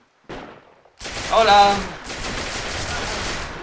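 Gunfire in the Heroes & Generals video game: a rapid burst of automatic shots rattles over a dense battlefield roar, with someone shouting briefly over the din.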